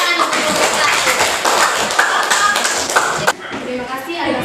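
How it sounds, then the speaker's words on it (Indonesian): A class gives a group a round of clapping, a fairly close, busy patter of hands lasting about three seconds that stops abruptly, with voices audible alongside. "Kita berikan tepuk tangan untuk kelompok"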